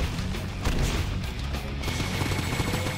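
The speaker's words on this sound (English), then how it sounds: "Shooting at me." Enemies shooting in the game Painkiller, a dense, noisy barrage of gunfire and crashing impacts that runs continuously and loudly without pause.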